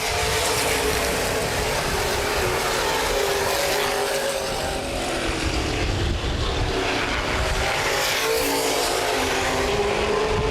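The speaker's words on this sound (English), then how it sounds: "Set to go back, green flag racing." Open wheel modified race cars roar around an oval speedway in a feature race, a dense, continuous engine drone with passing swells and pitch shifts, loud and sustained with no talk.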